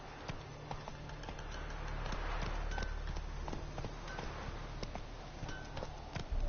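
Horse hooves gallop in The Witcher 3, a quick, steady clip-clop rhythm of strikes on the ground over a low rumble, building slightly louder through the middle and continuing without pause.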